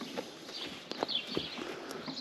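Horse hooves walking on an Iowa farm, producing scattered soft clip-clop thuds at an uneven pace, close by amid faint outdoor ambience.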